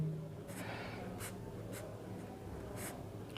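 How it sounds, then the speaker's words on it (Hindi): Pen scratching out a determinant by hand on paper during a Class 12 maths lesson, a few short strokes spaced through a quiet background hum. "तो सबसे पहले आपको पता है इस डिटर्मिनेंट को लिख लेते हैं"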